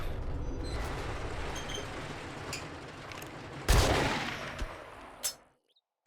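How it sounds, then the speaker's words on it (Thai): A shotgun fires in the zombie survival game 7 Days to Die, with one sharp, heavy blast and a later, smaller report standing out over low background game noise before a sudden cut to silence. "ลูกซองเนี่ยต้องยิงใกล้ๆมันถึงมันถึงจะตายนะผม"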